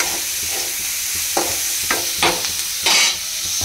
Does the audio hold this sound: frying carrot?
yes